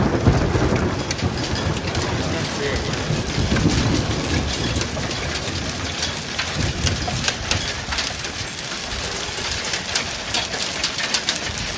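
Violent hailstorm with thunder on the Gran Sasso mountain: a dense, loud, continuous pounding roar of falling ice and rain that holds steady for the whole stretch, with no voices.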